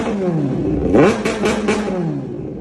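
A 400cc two-cylinder motorcycle engine revs up sharply and settles back, rising and falling several times in quick, loud, close bursts with a raspy exhaust note.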